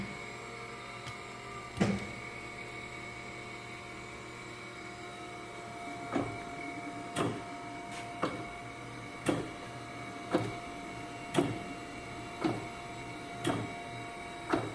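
A Chevalier FSG 3A 818 three-axis automatic surface grinder (8 x 18) runs with its hydraulics and spindle on. A steady machine hum carries sharp clunks at regular intervals of about a second, with no talking.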